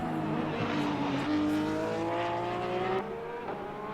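Porsche race car in a sim racing series at Bathurst, its engine holding a loud, steady high-pitched drone that rises slightly in pitch, then drops after a gear change near the end, with no talk.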